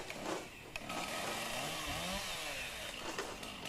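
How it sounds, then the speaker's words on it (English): A chainsaw runs steadily and loudly close by as it starts cutting into a rotten tree that holds a honey bee colony, its engine whine holding through the whole stretch with slight shifts in pitch. "Notice he locks the chainsaw into his leg as he's starting it."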